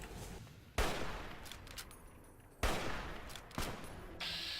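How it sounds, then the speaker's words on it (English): Video game gunfire from Fallout: New Vegas, with several loud, sharp broadband shots or bursts standing out from a steady background din, spaced irregularly across a few seconds. "might as well just shoot him now with VATS because I can't hit"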